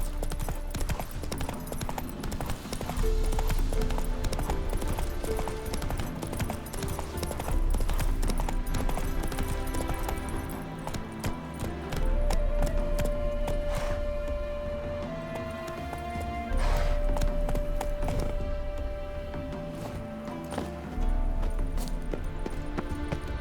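Roach, the horse in The Witcher 3: Wild Hunt, gallops with a steady, driving clip-clop of hooves that runs the whole way through, set under swelling game music.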